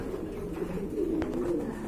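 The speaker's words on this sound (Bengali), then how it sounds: "এখানে কিন্তু আরেক জোড়া কবুতর দেখতে পাচ্ছেন" Pigeons at a pigeon seller's coo in low, soft rolling calls that run continuously and close by, with a brief tap partway through.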